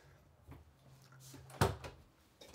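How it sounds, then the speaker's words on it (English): A drawer in the bathroom of a new 2023 Grand Design Momentum 410THR RV slides out with one sharp, close rattle and thump amid quiet room tone, followed by a fainter knock. "Pull out drawers right here."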